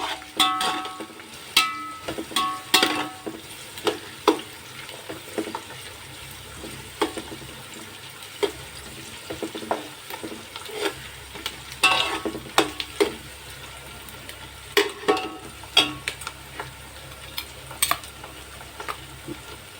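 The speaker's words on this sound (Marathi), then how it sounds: "यामध्ये आपण 1 चमचा जिरं घालूया. ते छान परतून घेऊया." Cumin seeds sauté in a pan for pav bhaji, with a soft, steady sizzle under frequent clinks and scrapes of a spoon stirring the pan, close and continuous throughout.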